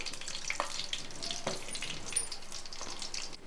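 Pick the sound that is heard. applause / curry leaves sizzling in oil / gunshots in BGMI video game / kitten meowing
curry leaves sizzling in oil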